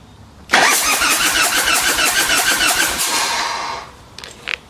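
A Harley motorcycle engine cranks and fires up with the choke on, running loud and rough close by for about three seconds before cutting off, followed by a couple of faint clicks.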